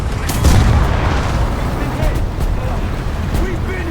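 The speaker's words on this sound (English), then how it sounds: "We've been hit. Single shot. Big damage." A shell strikes the player's tank in the video game War Thunder, a loud, heavy boom near the start that rumbles on under continuous engine and battle noise.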